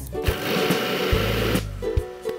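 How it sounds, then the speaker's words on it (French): A food processor whirs steadily as it mixes vegan protein cookie dough with peanut butter, a close, continuous motor hum that holds briefly before cutting back. "On mixe pendant pas très longtemps, 2 minutes max."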